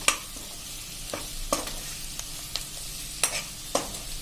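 Green chillies roast in a pan for a yogurt chilli curry, a steady sizzle with scraping stirs and soft clatters every second or so, close and without voices.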